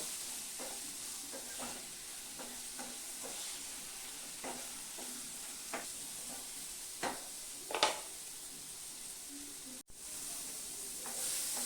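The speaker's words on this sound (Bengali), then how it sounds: "ভালো করে ডাঁটা আলুটা আমি ভেজে নেব।" Vegetable stalks and potatoes frying in a pan, a steady soft sizzle with scattered sharper crackles and pops, close and moderately quiet, with no talk.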